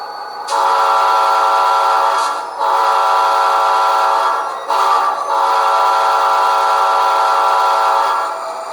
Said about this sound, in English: Well, function 9's got a horn on it.